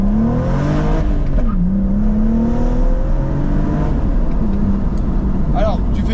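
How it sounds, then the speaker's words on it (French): BMW M135i with N55 turbo engine pulling hard through the gears, a loud close engine drone whose pitch climbs, drops at each shift and climbs again, with someone talking over it. "T'es en 2 en sous-régime, le turbo il s'active, c'est fou."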